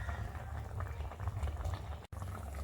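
Fish curry boiling in a pot, a steady low bubbling and simmering that runs continuously at close range, with one brief dropout near the end.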